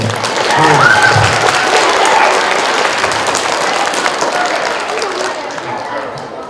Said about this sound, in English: this is the time for applause, people